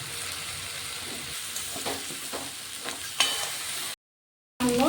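Cabbage frying in a pan with spiced oil, a continuous bright sizzle with faint scraping stirs, cut by a short silent gap near the end.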